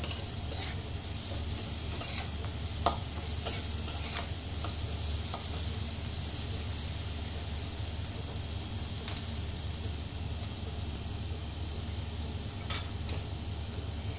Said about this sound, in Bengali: একটু ভাজা ভাজা হোক, আদাটা, জিরে পাউডারটা, এগুলো একটু ভাজা ভাজা হতে হবে